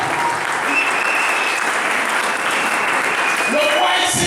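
A church congregation breaks into sustained, loud applause acclaiming Jesus, a dense continuous clapping that swells slightly near the end.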